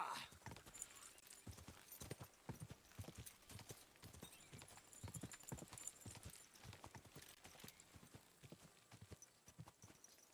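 Horse hooves clip-clop in a steady, close rhythm while riding in Kingdom Come Deliverance 2, a medieval video game, with faint game ambience and no talk over them.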